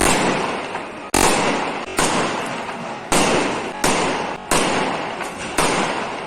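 Loud Diwali firecracker blasts go off in rapid succession in Delhi, each sharp bang followed by a rumbling decay, about eight explosions in a few seconds.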